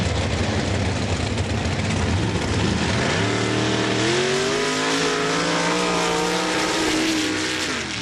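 Roaring engines of mud trucks, including the Instagator 2 and the Dirty Sanchez truck, at a mud drag race in Laporte, Indiana, a loud continuous blare with rising and falling engine tones as they run.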